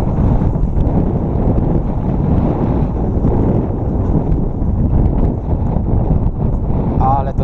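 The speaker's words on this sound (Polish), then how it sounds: "Sorry, jak będzie wiało." Strong wind roars loudly against the microphone in a constant heavy rush, with a voice briefly heard near the end.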